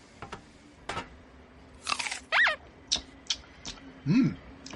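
Someone bites and chews a crunchy ferret sandwich aboard a train, with a few sharp crunches among quieter chewing clicks, and short sounds like voices between them.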